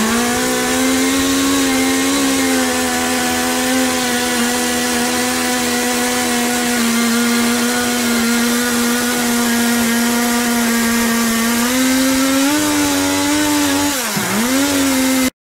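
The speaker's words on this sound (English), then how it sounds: "I prefer either the bandsaw." Bandsaw cutting a wooden craft tree, a loud steady machine whine running continuously and close with a slight dip in pitch near the end as the blade loads in the wood.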